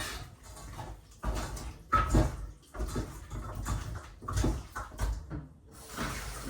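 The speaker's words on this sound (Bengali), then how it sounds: "মাছটি আমি লবণ মেখে রাখছিলাম, এখন আমি সুন্দরভাবে ধুয়ে নেই" Salted boal fish is rinsed by hand with hot water, giving irregular splashes, sloshing and soft knocks in short bursts with brief pauses between them, fairly close.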